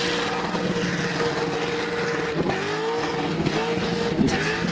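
Open-class car doing a burnout at a burnout competition finals, its engine roaring loud and sustained at high revs, the pitch dipping and climbing again in brief surges throughout.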